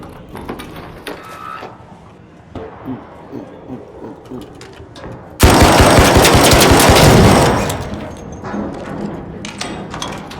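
Rapid automatic gunfire from a weapon in the video game Arc Raiders, loud and close, erupting in a dense sustained burst mid-clip amid scattered game shots and clatter before and after.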